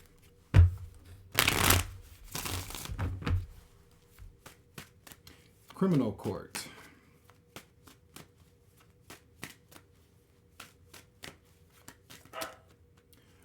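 A Radiant Rider-Waite tarot deck being shuffled, with two loud riffling bursts near the start followed by sparse soft card taps and a spoken passage partway through.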